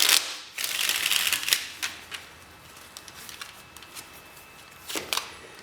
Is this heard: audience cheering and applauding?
no